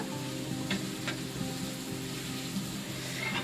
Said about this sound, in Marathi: कांदा आलटत पलटत राहायचा आहे जोपर्यंत भाजत नाही कांदा हलवत राहायचा